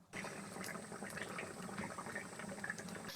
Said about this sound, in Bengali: এবার আস্তে আস্তে জাল দিয়ে আলুটা সেদ্ধ করে নেবো।